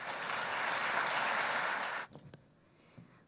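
Conference audience in Uruguay applauding to welcome a speaker: a full, dense burst of clapping for about two seconds, then it cuts off, leaving a few scattered final claps.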